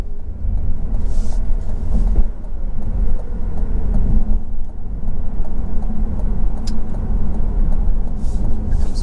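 A 2020 Cadillac CT5 accelerating up a highway on-ramp, a steady low engine and road rumble filling the cabin, close and continuous with no talk.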